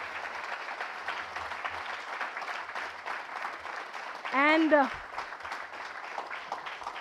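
A brief burst of clapping for retired employees at an IndianOil Day celebration rises over a noisy room with ongoing chatter, lasting about half a second before fading back into the background.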